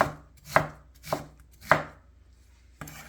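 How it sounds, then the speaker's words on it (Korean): A knife roughly chops a pear on a cutting board, making four distinct, well-spaced thuds at an uneven pace, close and clear against a quiet background. "배는 작은 거 한 개 정도 넣을 거예요. 그냥 이렇게 듬성듬성 썰어서 넣어주세요."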